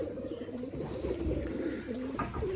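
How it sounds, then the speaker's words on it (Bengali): A red Giribaj pigeon coos in repeated low, throaty phrases close by, with other pigeons faintly in the loft behind and no one speaking. "এই যে এটা হচ্ছে লাল গিরিবাজ কবুতর"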